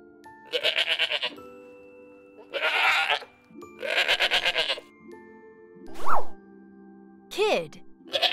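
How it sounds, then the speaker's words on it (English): A goat bleats several times in short, separate bursts with pauses between them, followed by a couple of sharper, rising calls, all close and clear. "Goat."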